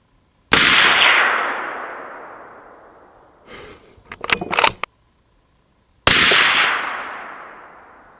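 Two loud close rifle shots from a Desert Tech SRS A2 Covert bolt-action rifle, each a sharp crack with a long fading echo, separated by metallic clicks and clacks of the bolt being worked.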